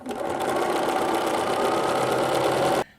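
A sewing machine top-stitches a zigzag section of a Kwik Sew 1066 lingerie slip, a loud steady motor hum and rapid stitching rattle running nonstop, then cutting off sharply.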